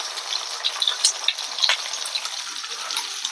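Smooth tomato gravy for a mixed vegetable curry hits a hot pan with cumin, producing a close, continuous hissing sizzle with crackling pops throughout, no voices.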